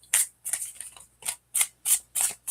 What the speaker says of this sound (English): I'm gonna give it another shuffle.